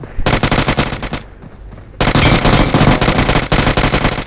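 Loud, rapid automatic gunfire in PUBG Mobile, dense bursts that ease to a short lull midway, then resume with sustained, close-up shooting to the end.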